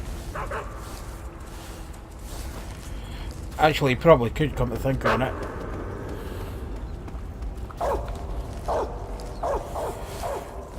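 A guard dog in Metal Gear Solid 3: Snake Eater barks in a quick burst of sharp yaps, then gives a few scattered barks and whimpers, with someone talking over the game sounds.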